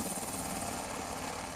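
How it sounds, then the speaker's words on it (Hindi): A helicopter near the Kedarnath helipad gives off a brief, steady rotor and engine roar, fairly loud and continuous throughout with no talking. "और देखिए ये हेलीपैड पे लैंड नहीं किया है हेलीकॉप्टर"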